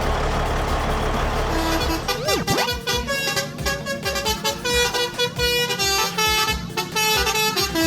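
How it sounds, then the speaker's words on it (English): City bus horn sounding in repeated loud honks over a steady rumbling engine, the blasts coming in a fast rhythmic pattern close up. "Modern bus, a large bus that carries many people around the city"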